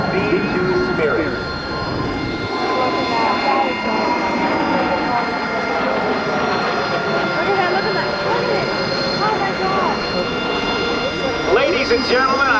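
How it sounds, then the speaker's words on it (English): A B-2 Spirit stealth bomber makes a flyby at the 2007 Dayton airshow, producing a loud, continuous jet roar with a rising and falling whine that fills the whole stretch. Crowd and announcer voices mingle in the background. "with a crew of 2, let's listen to this. B-2 Spirit."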